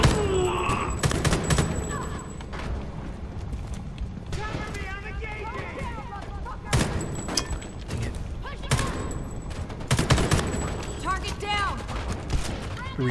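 Gunfire in the video game Homefront: The Revolution comes in repeated sharp bursts and volleys, with game voices and other effects in between.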